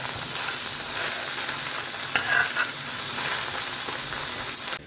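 An omelette sizzles and crackles steadily in hot oil in a wok, a close, continuous frying hiss with occasional faint scrapes, and no talking.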